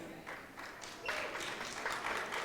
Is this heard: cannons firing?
no